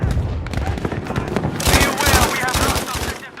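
VGO gun firing in Battlefield 5, rapid bursts of loud automatic gunfire with sharp cracks. The shots grow denser and heavier partway through, with distant booms underneath.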